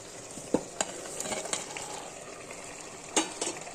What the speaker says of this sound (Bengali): মাংসটাকে খুব ভালো করে কষবো